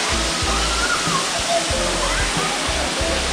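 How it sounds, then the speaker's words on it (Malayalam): Thusharagiri waterfall roaring as a dense, continuous rush of falling water, loud and close, steady throughout with faint low thumps beneath. "ഇതാണ് ആദ്യത്തെ ഫസ്റ്റ് വെള്ളച്ചാട്ടം തുഷാരഗിരിക്കകത്ത്."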